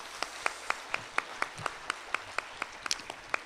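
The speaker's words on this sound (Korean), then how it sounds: "우리를 위해서 한번 박수 한번 쳐볼까요?" A small audience at a 25th Statistics Day commemorative ceremony claps in a steady, even rhythm, with sharp individual claps spaced evenly at a moderate, slightly distant level.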